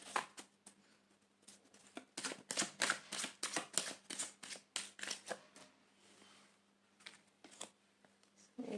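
Tarot cards riffle and slap together in a run of quick, crisp shuffles with short pauses, close and fairly quiet, ending in a few separate card flicks as cards are drawn; no talking.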